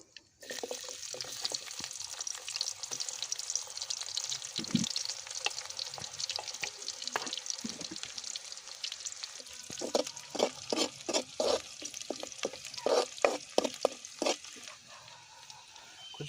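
Fenugreek seeds and onion frying in a pan for a village-style fish curry, a steady sizzle with stirring scrapes that turn into a run of rhythmic clattering strokes toward the end, close and without talk.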